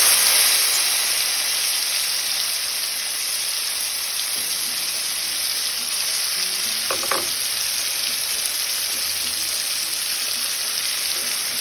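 Ingredients for lemon rice sauté in a pan with a strong, continuous sizzle and hiss, interrupted by a couple of sharp utensil clicks near the middle, with no voices.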